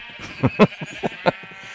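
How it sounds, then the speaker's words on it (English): Sheep in the video game Minecraft bleat in a quick series of short, clipped calls, close and loud over a steady background hum. "I went ahead and started growing sheep."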